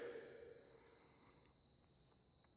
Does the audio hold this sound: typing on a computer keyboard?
no